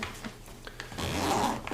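A zipper on a MyMedic SOLO first aid kit is pulled open in one steady, close rasping run that grows louder through the second half, with no talking.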